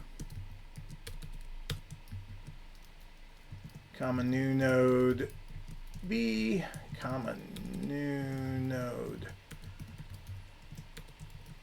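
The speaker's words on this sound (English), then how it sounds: "I'm already getting tired of typing this." Clicking keystrokes on a computer keyboard while coding, faint, quick taps running in the background as someone talks over them in bursts.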